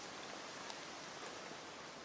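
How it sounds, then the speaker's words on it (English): Steady rain falls outdoors along a walk toward a primary school, a dense even hiss with soft scattered drops, constant and fairly faint, with no voices. "it was a rainy day in this one"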